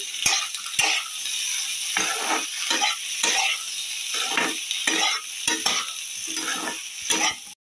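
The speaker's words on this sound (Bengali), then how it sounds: "দিয়ে আর একটু নেড়ে নিই।" Peas and boiled mung dal being stirred in a hot pan, with a steady loud sizzle and repeated scraping, clinking strokes of a spoon against the metal at an uneven rhythm, close up and with no voices.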